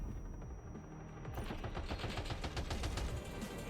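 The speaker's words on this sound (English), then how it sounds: "Very glad to have a reason to do some bike shooting" Gunfire rattles from a bike in the Death Stranding 2 game, a rapid, steady string of shots building after a quieter opening and continuing to the end, moderately loud.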